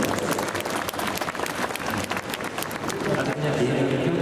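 Audience applause fills the hall at a film festival open talk, a dense, loud, continuous clapping crowd lasting the whole few seconds.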